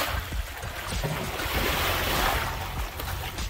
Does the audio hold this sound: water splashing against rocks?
yes